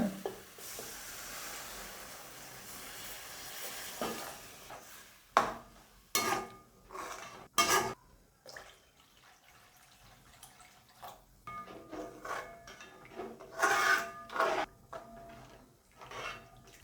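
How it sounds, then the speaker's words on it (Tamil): Water poured into a pot of okra tamarind curry, heard as a soft running pour followed by scattered clinks of a utensil against the pot and gentle sizzling and bubbling, close and fairly quiet with no talk. "இப்போ குழம்புக்கு தேவையான தண்ணி சேர்த்துக்கிறேங்க"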